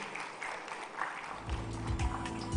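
An audience at a tech conference in India applauds a PayPal India executive, a fairly faint, distant wash of clapping with a low musical or hum-like tone rising underneath toward the end.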